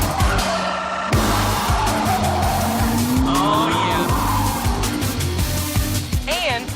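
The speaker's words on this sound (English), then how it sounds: "I can smoke the tires at 100 miles an hour." A Cadillac with a standard manual six-speed gearbox driven hard at speed, its engine roaring loudly and steadily while tires squeal and skid, with a rising whine late on and a voice talking over the noise.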